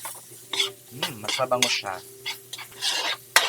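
Pepper, garlic and onion sautéing in a pan for a stir-fry of bean sprouts and longganisa, with steady sizzling and bursts of stirring scrapes, under a woman's speech.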